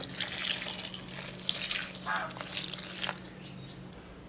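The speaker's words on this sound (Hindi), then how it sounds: "एंड पे इसमें पानी डालेंगे।" Water runs into a pot of goat head curry with tomatoes, green chilies and marinade oil, a soft steady splashing wash with faint bird chirps in the background.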